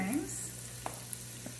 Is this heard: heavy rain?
no